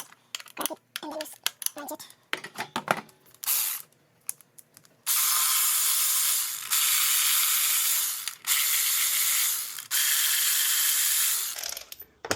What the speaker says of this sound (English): So you have to use 8 mm 6-point socket to remove